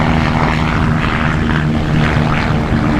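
An RV light aircraft takes off at Oshkosh AirVenture with a loud, close, steady propeller engine roar that fills the whole stretch, with no speech over it.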